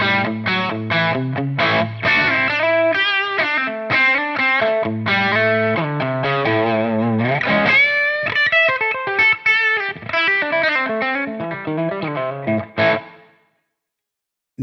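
Distorted electric guitar with a Friedman-style amp tone on the push two setting, playing a long busy passage of fast riffs and chords, loud and close and alone, before it cuts to silence at the end.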